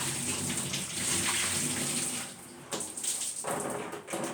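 Water pours and splashes steadily onto a surface during cleaning with chlorine, a continuous rushing wash that briefly eases before picking up again.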